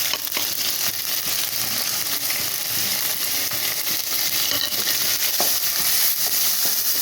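Powdered spices (chilli, cumin, pepper, garam masala, turmeric) sizzle and fry in a pan over a low gas flame while being stirred, a steady close crackle with scraping stirs throughout.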